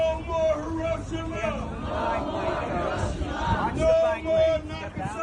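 A crowd of anti-nuclear campaigners at a rally and march to the U.S. mission to the United Nations, voices chanting and shouting together in a dense outdoor babble, close and continuous.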